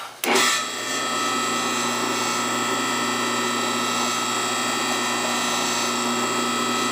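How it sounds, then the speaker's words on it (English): A steady, loud mechanical whine of a drill press boring into wood, running continuously after a brief start-up. "Then we come over to the drill press and drill these holes."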